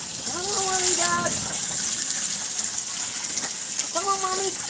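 Fresh water pours steadily into a ducks' pool on a homestead, a constant hissing gush that runs throughout, with a voice talking over the flow.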